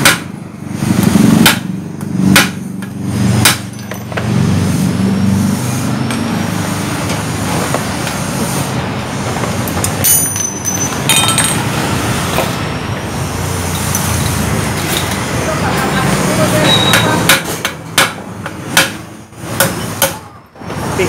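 Old steering bearing cup being hammered into the steering head of a Jupiter MX motorcycle, with sharp metallic strikes in short clusters at the start and end and dense clattering workshop noise between, close and loud.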